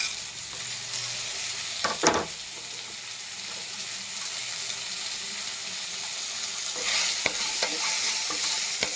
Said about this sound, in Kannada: ಇದೆಲ್ಲ ಚೆನ್ನಾಗಿ ಫ್ರೈ ಆಗಬೇಕು ಫ್ರೆಂಡ್ಸ್ ಇದು